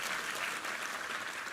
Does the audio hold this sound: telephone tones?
no